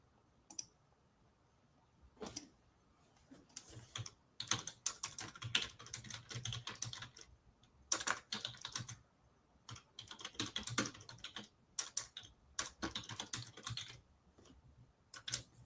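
Bursts of keyboard typing on a computer, quick clicking key presses in irregular runs with short pauses between, close and fairly quiet, with no talking.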